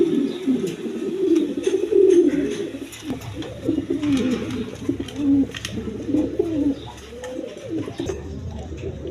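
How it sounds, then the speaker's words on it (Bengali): A pair of Kaldum pigeons with black tails and crested heads coo repeatedly at close range, with deep, rolling calls overlapping almost continuously in a loft setting. "এইখানে এক পেয়ার কালদম কবুতর নিতে পারবেন"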